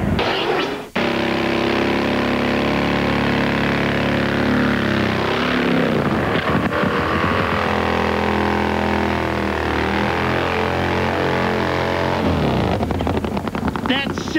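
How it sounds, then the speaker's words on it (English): Nitro-powered Harley drag racing motorcycle engines of about 750 horsepower roar loud and continuous for most of the run at an IHRA national event, the pitch sweeping and shifting, with a commentator's voice over the noise. "750-plus horsepower of nitro-powered Harley engine spinning those big rear-wheel tires"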